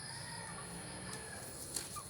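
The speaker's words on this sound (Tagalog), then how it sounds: "nandito na naman tong mga manok" Hens cluck softly at close range over a steady background hum, with a brief sharper squawk near the end, while waiting for feed.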